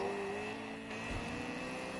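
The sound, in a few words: car driving behind, from a racing video game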